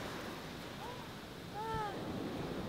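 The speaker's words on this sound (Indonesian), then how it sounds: "Dan ombaknya udah mulai gede banget." Ocean surf at a quiet beach in East Bali rumbles as a steady, low wash of waves with wind noise, while a faint voice or bird-like call rises briefly over it.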